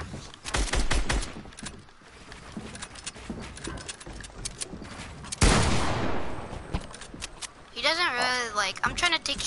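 Video game gunfire in a fast shooter, bursts of rapid sharp shots and a louder blast midway, mixed with voices talking over the action.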